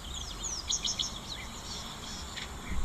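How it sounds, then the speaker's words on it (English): European bee-eaters give rolling, trilling calls that repeat through steady outdoor background noise at a waterhole, with a few chirps standing out and insects buzzing faintly. "there's the European bee eaters calling"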